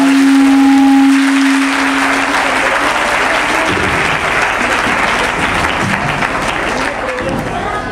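A loud round of audience applause rings out at a talent award ceremony in Farmana, dense and sustained throughout, with a steady tone at first and faint voices underneath.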